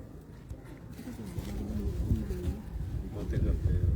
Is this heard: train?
no